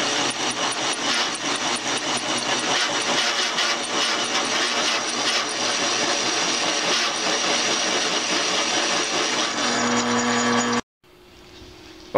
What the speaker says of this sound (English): I'm getting ready to start playing with the drill